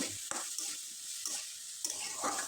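Chopped potatoes stirred in a pan, a steady soft sizzle broken by a few sharp scraping strokes of the spoon, close and moderately quiet with no voices.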